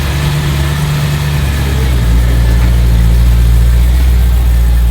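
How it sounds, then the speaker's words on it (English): A BMW E9X M3 with an S65 V8 and valved exhaust rumbles steadily as it pulls in, a loud, close, deep drone that swells slightly partway through. "let me go ahead and pull in the M3 right now"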